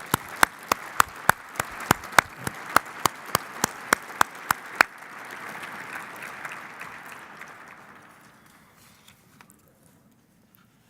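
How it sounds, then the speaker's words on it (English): Audience applause after congratulations to environmental award champions at a UN ceremony, opening with a dense wash of clapping punctuated by sharp camera-shutter-like clicks for about five seconds, then fading steadily into near silence. "Let us give our warmest applause again"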